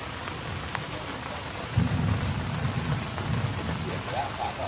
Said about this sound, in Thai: ฝนตกมาไม่หยุดเลยค่ะ